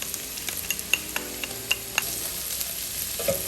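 Minced garlic sizzles in a pot of Manhattan clam chowder base, a soft steady frying hiss broken by scattered small pops and scrapes of stirring, fairly quiet and close, with no talking.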